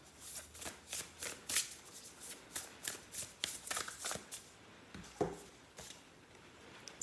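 Oracle cards are shuffled by hand in quick, soft riffling bursts, repeated many times in an uneven rhythm, close by and quiet.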